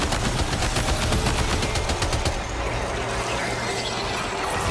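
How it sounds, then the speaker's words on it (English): A machine gun in Death Stranding 2 fires a loud, continuous rapid stream of rounds for about two and a half seconds, then gives way to a dense, noisy rumble of game sound. "Meet machine gun."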